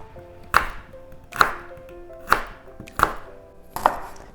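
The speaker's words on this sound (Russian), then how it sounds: "А вторую половинку имбиря тоже нарезаем на такие слайсики" A knife chops firmly through ginger on a cutting board, five evenly spaced cuts into thick slices close up, with no talking.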